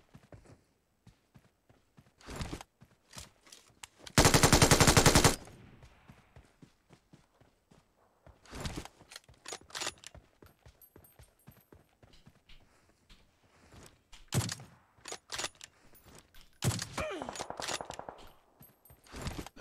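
Gunfire from a PUBG Mobile match: scattered short bursts of shots in clusters, with one loud sustained burst of rapid fire standing out near the start, amid quieter intermittent game effects.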